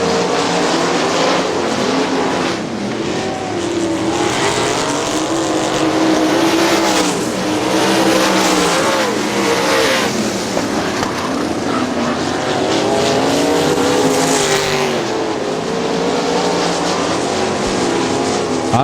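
Loud, continuous roar of 410 sprint cars at full throttle on a dirt track race, several cars revving and passing in overlapping waves with no pauses.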